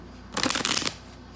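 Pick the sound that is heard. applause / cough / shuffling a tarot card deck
shuffling a tarot card deck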